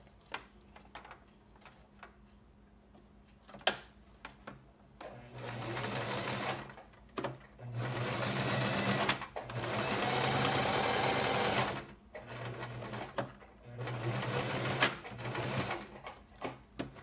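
A sewing machine stitches through nylon sling webbing for a DIY rifle sling, running in several bursts of steady, close, rapid mechanical chatter separated by brief pauses.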